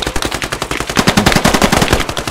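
Rapid automatic gunfire from the video game Squad, loud and close, with dense repeated shots firing in a steady burst and a second overlapping stream of shots joining midway.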